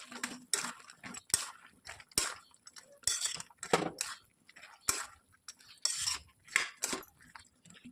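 Crispy fried soybeans stirred into thick chilli gravy in a pan, a spoon scraping and clinking against the metal in repeated bursts, near and fairly loud, with short pauses between strokes.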